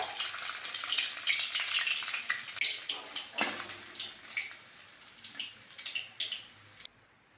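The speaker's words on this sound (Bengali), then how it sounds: "ওই তেলের মধ্যে 5 ফোড়ন দিয়ে দেব।" Hot oil sizzles loudly in a pan after fish has been fried, then five-spice seeds are tossed in, bringing bursts of crackling and spitting that rise and fade in repeated pulses before the sizzle cuts off near the end.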